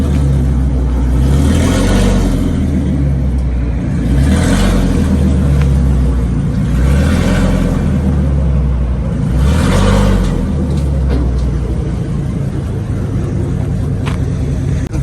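A truck, probably pulling an RV salvaged from auction, reverses and then drives up onto a trailer, its engine rumbling steadily and swelling in several low revving surges, close and loud, with no talk.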